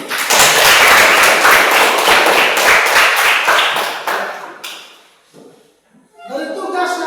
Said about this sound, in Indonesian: Tepuk tangan untuk 3 kelompok ini.